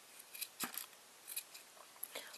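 Scissors trim a tiny yarn pom pom, giving a few quiet, crisp snips spaced irregularly over a couple of seconds, close up and faint.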